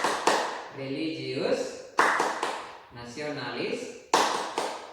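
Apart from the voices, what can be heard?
children's rhythmic clapping, tepuk PPK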